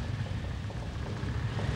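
Rain and storm noise at sea in an animated cartoon, a steady, fairly faint broadband wash of rainfall with low rumbling underneath, continuous throughout with no voices.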